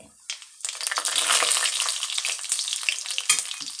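Mustard seeds and cumin hitting hot oil in a pan, bursting into a loud, dense crackling sizzle that rises quickly and holds with scattered pops.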